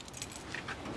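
Car keys jangle faintly and continuously for a moment, a soft metallic rattle close by with no talking.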